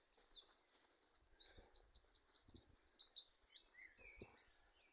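Spring birds sing and chirp in bright, quick overlapping phrases, fairly close and clear against an otherwise quiet background.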